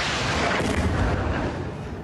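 An Israeli missile strike hits a building in Gaza, and a deafening explosion rumbles as a sustained, heavy low roar and blast wash that fades slightly toward the end, with no voices.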